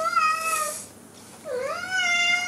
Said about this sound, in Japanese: もう猫がもう邪魔するわ